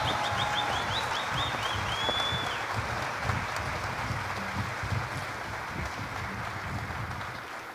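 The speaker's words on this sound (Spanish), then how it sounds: "Un aplauso para que salga" Audience applause at a concert fills the space continuously, a broad steady clatter of many hands, with a high whistle-like tone briefly riding over it near the start.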